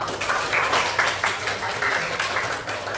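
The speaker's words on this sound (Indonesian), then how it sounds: "mari tepuk tangan untuk kita semua" A classroom of students claps together in a short, uneven burst of hand claps with a low background hum underneath.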